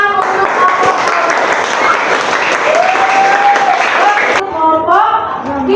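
Classroom students applaud together, a steady wash of clapping that carries for several seconds before thinning out as a few voices speak over the end.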